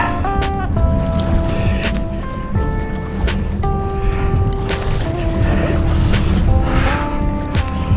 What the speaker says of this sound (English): Just gotta get that motor in reverse a bit.